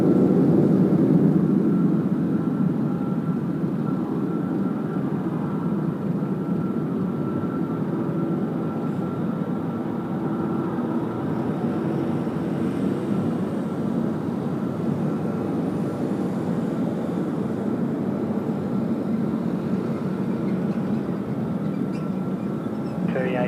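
A Cathay Pacific Boeing 777 rolls down the runway for takeoff at Sydney Airport on a windy night, a loud, sustained low engine roar that holds steady and heavy for the whole stretch.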